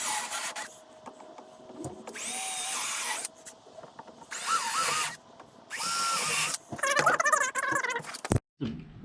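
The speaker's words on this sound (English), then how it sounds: "I'm going to go ahead and drill these pilot holes" A power drill whirs in several short bursts, stopping and starting, drilling pilot holes for a vinyl stair railing, followed by some squeaky grinding as the dull bit works through material.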